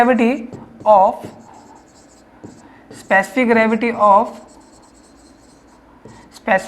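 Chalk or marker scratches across a board in short strokes, with someone talking clearly in bursts between and over the writing.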